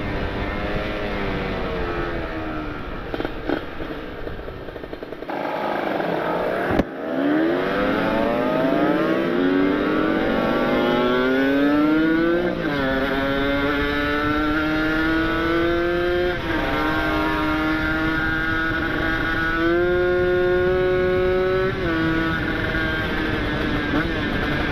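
A Kawasaki Ninja RR two-stroke motorcycle fitted with an ABRT20 exhaust, loud and close, blipped and then held at high revs with a rising, wavering whine that settles into a sustained buzzing drone; a voice briefly under it.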